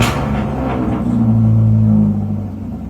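A motor vehicle engine is started after sitting unused for about a month, then runs as a loud, close, rough low rumble with a slight rise in revs, fading a little at the end.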